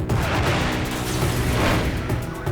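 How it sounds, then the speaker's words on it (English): A massive bomb detonates at the Cuban mission to the United Nations in uptown Manhattan, a loud, sustained blast rumble that fills the whole stretch without letting up. "A massive bomb detonates at the Cuban mission to the United Nations."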